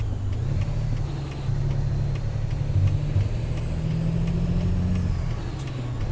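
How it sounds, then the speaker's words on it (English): Truck Jake brake in the American Truck Simulator video game, using Creechbone's new sound set: a deep, continuous engine rumble with a throaty low drone that swells and settles over several seconds, with no talking. "Listen to this Jake brake."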